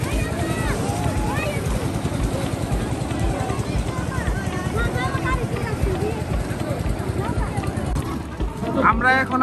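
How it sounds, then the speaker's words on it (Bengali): A trawler boat's engine drones on the river at Jaflong, Sylhet, with steady wind buffeting the microphone while people talk over the noise, and a brief burst of higher-pitched sound at the end. "ট্রলারে করে আসতে হয়"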